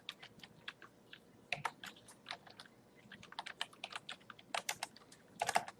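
Someone types code on a computer keyboard in quick, irregular bursts of soft clicking keystrokes. The clicks are faint and close, with no one talking.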